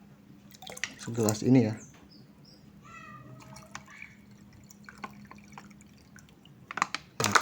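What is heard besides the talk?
pouring fermented EM4 bacteria solution into water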